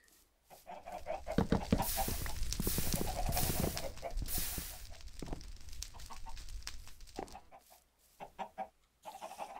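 Chickens cluck in a farm video game, repeated busy clucks and fowl calls running fairly loud through most of the stretch before trailing off into a few scattered calls.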